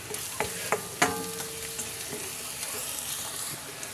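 Mixed seafood being stirred in Cajun seasoning in a hot pan: several sharp spoon clanks against the metal early on, then a continuous close sizzle as stirring continues.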